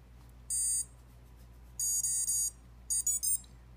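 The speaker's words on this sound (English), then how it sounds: "Confirmation beeps" Electronic speed controller on an Emax-motored drone giving short high-pitched confirmation beeps: one single tone, then a group of three, then three quicker ones, clear against a quiet hum.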